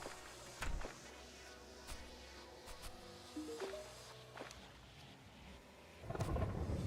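A thunderstorm rolls through the video game Terraria, with a booming thunderclap near the start and another loud crash at the end over steady rain, plus a few small game chimes in between.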